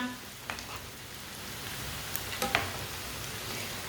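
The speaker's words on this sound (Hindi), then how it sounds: "गोश्त को ना दोनों साइडों से ब्राउन कर लेंगे" Pieces of gosht (meat) sizzle quietly in a pan as they brown on both sides, a soft steady hiss with a few light scraping taps, no voices.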